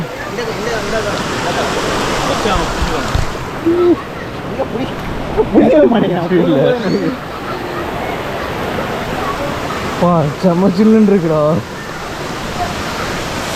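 Marmala Waterfalls on the way to Vagamon, Kerala, heard as a constant, loud rushing roar of falling water close by, with voices speaking now and then over it.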